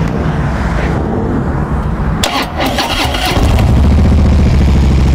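A Harley Davidson Street Glide FLHX motorcycle fitted with slip-on exhausts cranks over and starts, then settles into a loud, deep, steady idle close by.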